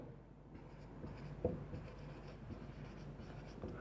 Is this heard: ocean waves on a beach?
no